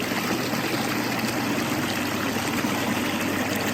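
Water from a hillside spring runs in a steady, close trickling flow that continues unbroken without any voices.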